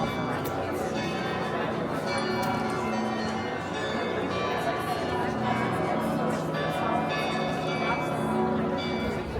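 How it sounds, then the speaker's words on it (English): Many church bells across Frankfurt ring together at noon on Sunday in a continuous, dense peal, overlapping tones layered over a constant murmur of background noise. "what you hear is all the church bells going off around"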